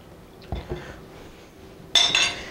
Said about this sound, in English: we're just going to whisk this really fast to combine